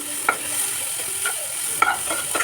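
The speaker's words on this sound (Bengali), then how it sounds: "দিয়ে আস্তে আস্তে কষতে থাকলাম দেখুন এটা আস্তে আস্তে নাড়তে থাকছি" Ground coriander, cumin and chili powder stirred slowly in a frying pan for navaratna dal, a spatula scraping in a few distinct strokes over a soft continuous sizzle, close and clear with no talking.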